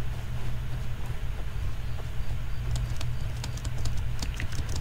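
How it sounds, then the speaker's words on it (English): Computer keyboard keys clatter in quick irregular bursts, close and fairly loud over a steady low hum, with clicks growing denser toward the end. "I wonder if you guys can hear the keyboard"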